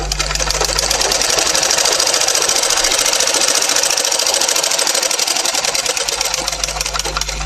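A sewing machine runs steadily through fabric during a tailoring lesson, a continuous close mechanical buzz of rapid stitching that holds for the whole stretch without pause.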